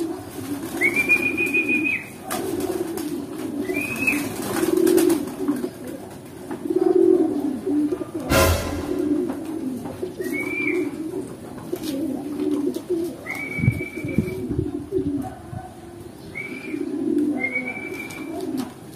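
Racing pigeons coo repeatedly at close range during a club training session, soft rolling calls recurring every few seconds with a sharp burst of wing flapping or rattling in the middle.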